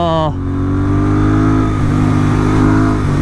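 Royal Enfield Interceptor 650 with an S&S camshaft revs hard past 5,000 RPM, a loud, close engine note that rises and holds under acceleration while a voice talks over it.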